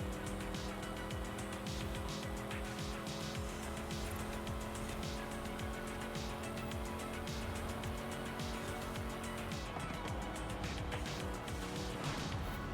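Cars racing in Forza, including an American muscle car, with engines droning steadily and tires squealing under a slight understeer, loud and continuous throughout.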